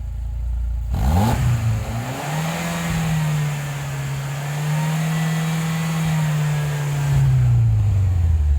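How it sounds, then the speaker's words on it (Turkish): A Fiat Tipo with a 1.6 Mpi engine revs up sharply, then holds a steady elevated idle-rev for several seconds before dropping back, loud and close with no talking. "Hatta ben gaz vereyim daha da şey Ver yapalım."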